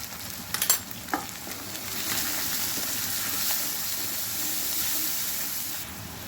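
Spiced potato filling for stuffed capsicums, seasoned with salt, sizzles and hisses steadily in a hot pan, with a few early clinks and scrapes of stirring before settling into continuous frying noise.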